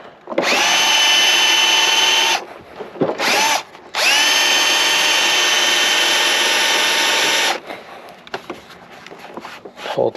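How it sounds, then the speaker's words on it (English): Power drill driving out fasteners during a front bumper installation on a Dodge Challenger widebody; loud whining motor bursts, one long run of about two seconds, a short blip, then a sustained run of several seconds, all close up. "So you just go on top of it, use your drill bit."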